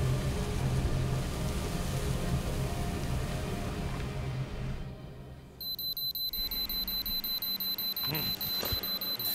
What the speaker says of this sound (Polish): Budzik.